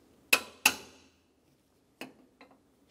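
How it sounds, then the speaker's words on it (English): Hammer blows on a punch knocking out rivets from a bumper bracket on a 2012-2020 Chevrolet Sonic: two sharp metallic strikes in quick succession, then two softer taps, close and alone without talking. "Using a hammer and a punch, we're going to remove the rest of the rivets."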